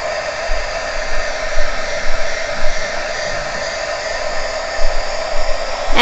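A hair dryer blows steadily and loudly at close range while drying a die-cut card for a handmade card class, a continuous whooshing hum with small fluctuations and no talking.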